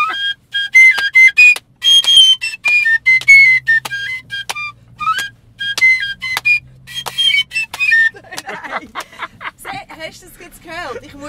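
A piccolo fife plays a shrill, loud melody in short piercing notes, ending in a more rapid, wavering passage.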